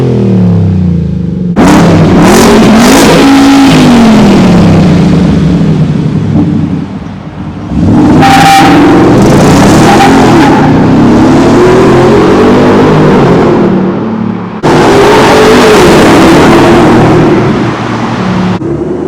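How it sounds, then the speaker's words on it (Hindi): A supercharged V8 in a 2023 Ford F-150 Raptor R pickup revs hard through its exhaust, with several loud, close bursts that rise and fall, each separated by brief dips, and no talking. "बट मेन चेंज है एग्जॉस्ट नोट."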